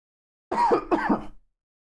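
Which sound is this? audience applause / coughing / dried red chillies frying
coughing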